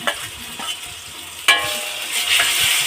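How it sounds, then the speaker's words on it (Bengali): Cumin paste frying in a pan for mutton kasha, after garlic, onion and ginger pastes: a steady close sizzle with a few sharp scraping stir strokes, louder after the midpoint. "তো জিরেটাকে বেশ কিছুক্ষণ কষিয়ে নেব"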